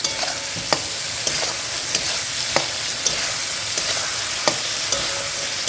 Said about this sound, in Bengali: টমেটোটা আমি খুব বেশি ভেজে ফেলবো না